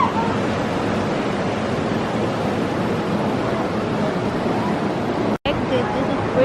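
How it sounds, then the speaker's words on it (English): Steady broadband rush of water, like surf or a torrent, heard on a boat tour at Wisconsin Dells, filling the whole clip at an even, loud level with a brief dropout near the end. "Take a picture of the water rush."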